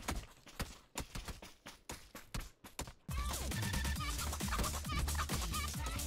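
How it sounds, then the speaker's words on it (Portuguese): Chicken-themed music in the video game PUBG, starting with sharp clip-clop beats and then a loud, dense tune with clucking, rooster-like sounds under continuous music, without speech. "Ah, tem música de galinha agora."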